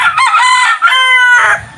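A rooster crows loudly and close by, one long harmonic cock-a-doodle-doo lasting nearly two seconds, with faint clucking underneath.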